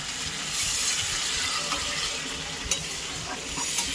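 Water poured into a hot pan of potol (pointed gourd), potato and gobindobhog rice, giving a loud hiss and sizzle that carries on steadily with a few clicks and bubbling pops; no talking.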